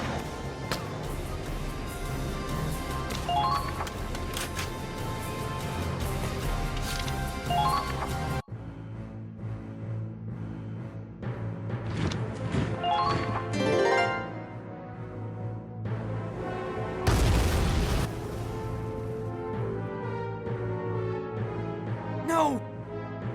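Heavy cannon shells slam into the squad's position during a mission in Valkyria Chronicles 4, with booming impacts bursting over music and battle noise and a sharp, loud blast standing out near the end.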